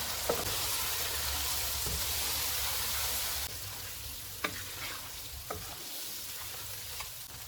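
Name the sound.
red chili powder and garam masala frying for chicken karahi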